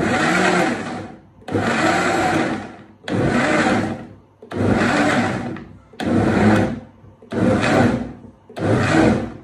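A blender on low speed chops tomatoes for a stew in seven short pulsed bursts, each a loud churning whir separated by brief pauses.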